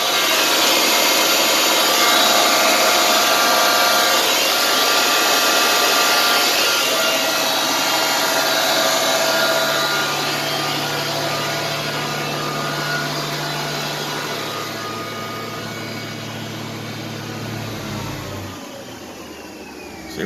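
A one-ton truck's charging setup, an alternator with three electric motors running together as one, idles in a steady continuous hum and whir, near and fairly loud, easing slightly lower toward the end with no talk.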